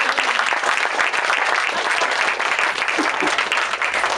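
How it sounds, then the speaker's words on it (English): Wedding guests break into dense, continuous applause during the speeches, a loud and even wash of clapping that holds steady for several seconds. "can I have a round of applause for my dad and Juan for their perseverance"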